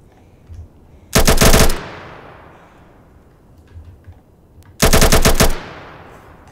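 Machine gun in the video game Atom RPG firing two short bursts a few seconds apart, each a loud rapid string of shots with a decaying tail, over a quiet background.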